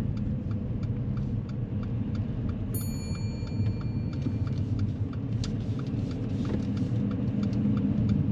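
Car interior during a driving lesson on dual carriageways and roundabouts, steady engine and road rumble throughout with regular ticking from the indicator and a brief electronic chime.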